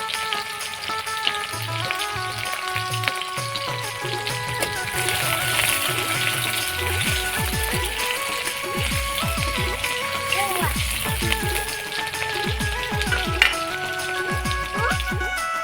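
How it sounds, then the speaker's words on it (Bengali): Chopped onions sizzle steadily in hot oil in a home kitchen pan, with a constant frying hiss, stirring scrapes, and someone talking over it. "ওই তেলের মধ্যেই এখন দিয়ে দিচ্ছি পেঁয়াজ কুচি। পেঁয়াজটা একটু লাল লাল করে ভেজে নেব।"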